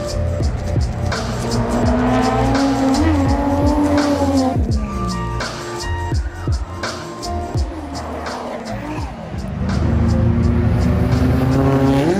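A Nissan 33 drift car at the Ebisu Drift Matsuri at night, engine roaring loudly with long screeching tire squeals and revving surges throughout, close and continuous.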